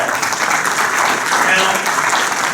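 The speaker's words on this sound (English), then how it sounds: "Give yourself a round of applause." An audience at a 2013 Good Government Summit in Northern Kentucky gives a round of applause, a full, continuous crowd clapping that stays loud and even throughout.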